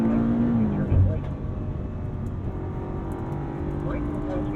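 A 2022 BMW M5 CS on a race track pulls with a steady engine drone under throttle, slightly louder at first and then holding level, while a driver talks over it.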